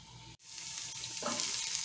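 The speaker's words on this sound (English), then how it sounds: "the green peppers, onions, and minced garlic have finished sauteing" Green peppers, onions and minced garlic sauté in a pan, with a steady close sizzle broken by a brief gap near the start and then a louder burst of frying.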